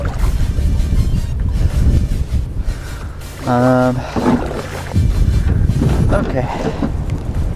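Gusty wind buffets the microphone on open water from a kayak during bass fishing in Nebraska, a loud rumbling roar that rises and falls, with a person briefly speaking between gusts.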